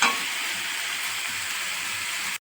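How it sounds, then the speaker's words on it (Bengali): Potatoes and spices sautéing in a hot pan give a loud, steady sizzle that runs unbroken for a couple of seconds, then cuts off abruptly, with no talking. "আলু দিয়ে ভালো করে মশলাটাকে কষিয়েছি"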